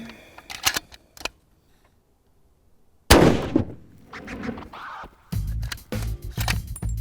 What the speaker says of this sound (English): I definitely lost sight of the target when the gun went off.